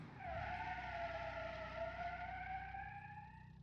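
A family car hard on the brakes in a 1974 family car driving game, its tires letting out one long, steady, tonal skid squeal that holds for several seconds before fading slightly.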